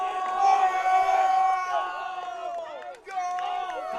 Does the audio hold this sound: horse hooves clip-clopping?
no